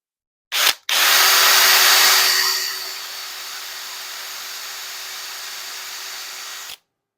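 A power drill with a poor 1/8-inch bit whines steadily as it bores through wood, starting loud after a brief start-stop and settling into a lower, continuous drone.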